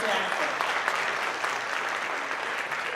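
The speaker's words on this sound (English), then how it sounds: "Let's give them another round of applause." Applause at a school board meeting for a school chorus, a steady wash of clapping from a seated audience with faint talk mixed underneath, holding evenly for a few seconds.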